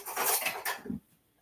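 Kitchen prep of garlic and mushrooms, with a knife chopping on a board amid clattering utensils and dishes: a busy run of close knocks for about a second, then near silence.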